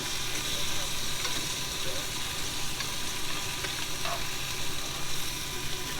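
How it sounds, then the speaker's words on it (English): Steak sizzles on a grill plate at a campsite, a close, loud and continuous crackling hiss with small pops scattered through it and faint voices beneath. "give that steak a turn over and listen to that beautiful sizzle"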